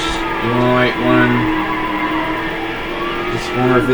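Car engine revving in Need for Speed Hot Pursuit 2, repeated rising and falling revs in short bursts, close and loud game engine tones.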